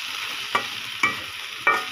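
Okra frying in a pan with salt and turmeric, a soft continuous sizzle broken by three short scraping stirs of a spatula, close and alone.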